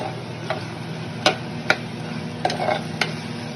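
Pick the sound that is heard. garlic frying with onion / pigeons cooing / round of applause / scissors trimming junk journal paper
garlic frying with onion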